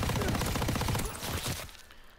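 A Thompson submachine gun firing in Call of Duty WWII, a dense rapid burst of shots for about a second and a half that then tails off, loud and close, with gameplay noise underneath.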